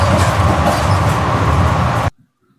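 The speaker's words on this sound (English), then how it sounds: "that's the sound effects from Epidemic Sound. Sounds like a inside of a train." A library sound effect places the listener inside a moving train. A loud, dense rumble of wheels and carriage noise with faint rhythmic clatter runs steadily for about two seconds, then cuts off abruptly to near silence.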